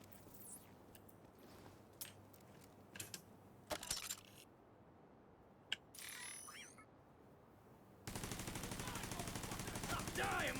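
Automated turret in a shooter video game firing at enemies: scattered sharp shots and short bursts against quiet background, then a dense continuous stretch of rapid fire near the end.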